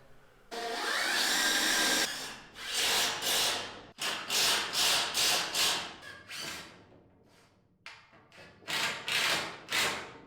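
A power drill or driver fixes brackets to a wooden beam in a dark building, heard up close as a long first whir and then many short, rising and falling bursts with brief gaps.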